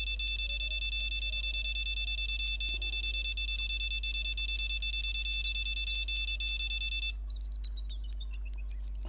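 Electronic alarm in the Fishing Planet fishing game, beeping at a fast, steady, high-pitched rate alongside a constant low hum, then cutting out around seven seconds as brief chirps follow; no talking.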